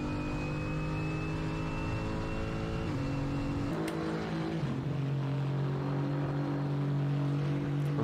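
A Mercedes AMG GT4 race car in a racing video game, its engine droning steadily in cockpit view with clear gear shifts changing the pitch, loud and continuous with no talk.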